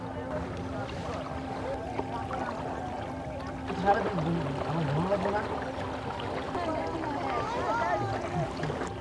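A boat carrying five people moving through the Ratargul swamp forest waters in Sylhet, low engine hum with soft splashing and water wash, people talking over it.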